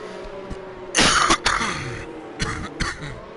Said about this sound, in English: I was trying to switch my mic off and end up coughing into it